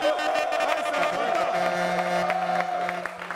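A TV show studio audience applauds, a steady wash of clapping and cheers lasting a few seconds under music, then easing off toward the end.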